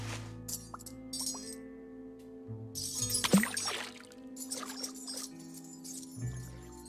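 A toilet flushes in the point-and-click video game Loco Motive, a gurgling, splashing rush of water with clinks and drips, rising to a burst mid-clip and then tapering over a low steady hum.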